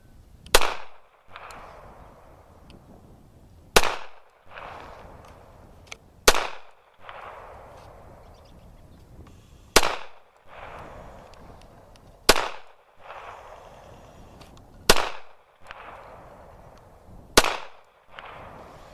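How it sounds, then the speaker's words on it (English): Bulgarian Makarov 9x18 pistol fired outdoors at about 15 to 20 yards, eight loud sharp shots spaced a couple of seconds apart, each followed by a short ringing echo. "Shooting the Makarov."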